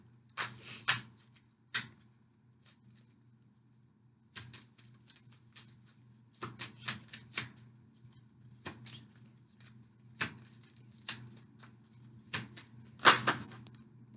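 Oracle cards being shuffled by hand: a series of quick, crisp riffling flutters and taps in irregular bursts, close and fairly quiet, with no one speaking.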